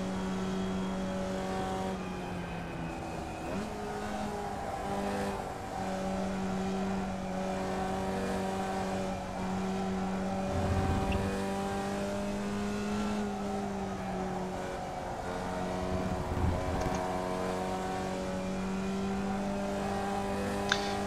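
Formula Vee race car engine in the iRacing simulator at Lime Rock, a steady droning buzz with gear shifts and pitch rising and falling through corners, continuous and prominent for the whole run.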